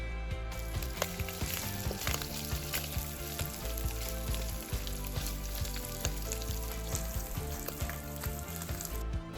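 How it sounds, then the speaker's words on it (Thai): Bacon and garlic sizzle loudly in a pan for a dried chili bacon pasta, a dense continuous frying crackle close by with frequent small pops and stirring scrapes. "พอเบคอนสุกได้ระดับที่ต้องการแล้วก็ใส่กระเทียมลงไป"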